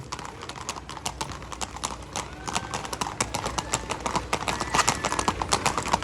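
Hooves clip-clop in a steady, brisk rhythm on pavement, several braided, trained horses passing close by in a veterans parade, with faint crowd noise behind.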